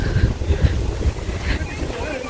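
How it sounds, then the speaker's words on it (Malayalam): Strong wind at the Kodanad View Point near Ooty buffets the microphone in low, gusty rumbles. Someone talks over it. "നല്ല ക്ലൈമറ്റാണ് നല്ല കാറ്റ്"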